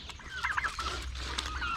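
Turkeys clucking and calling close by while being fed chopped food, a short burst of bright overlapping clucks over faint background noise, with no talking.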